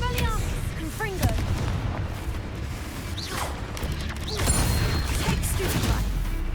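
Confringo blasting spells in Hogwarts Legacy combat, dense booms and crashing impacts layered over a busy battle mix with whooshing casts, while someone talks over the action.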